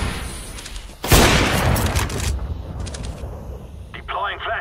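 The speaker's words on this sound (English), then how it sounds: "Throwing a flashbang." A flashbang grenade detonates in the tactical shooter CS:GO, a sudden loud burst followed by a long ringing, hissing decay, with faint game effects and chatter afterward.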